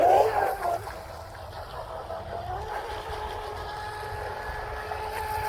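A small RC outrigger boat's motor whines steadily as it runs across the water, fairly faint, with a brief louder burst at the start.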